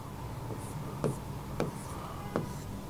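A pen or marker writes a benzene structure on a board, three short distinct strokes over a low room hum with a faint voice in the background.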